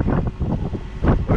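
Strong 30-knot wind buffeting a sailboat leaving a marina in Panama, a loud rushing roar of wind noise on the microphone with gusty surges and no talk.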